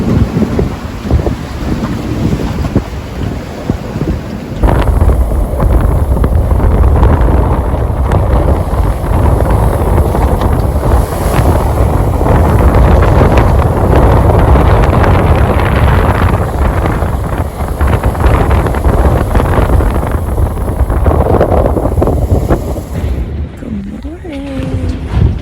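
Strong wind of about 30 to 35 knots roars over a sailboat crossing the Atlantic, a loud continuous rush with buffeting gusts close to the microphone. A voice talks through part of it.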